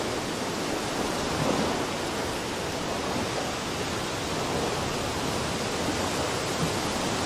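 A storm outdoors: continuous, dense hiss of heavy rain and wind, steady and fairly loud throughout, with no distinct thunder claps and no voices.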